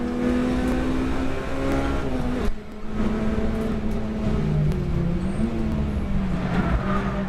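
A Honda Civic Type R EP3 race car engine drones loudly and steadily at a Donington Park national race, its pitch rising and falling with a brief dip mid-way as it shifts.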